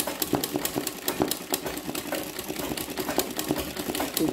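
An embroidery sewing machine stitches an apple design, giving a steady, rapid run of sharp mechanical clicks and needle taps over a continuous motor hum, close and fairly loud.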